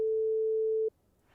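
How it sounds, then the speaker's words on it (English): A pure 440 hertz sine wave tone sounds loud and perfectly steady for just under a second, then cuts off abruptly. Faint low background noise follows. "the frequency of the sinusoid, which is 440 hertz, which of course we can listen to the sine wave"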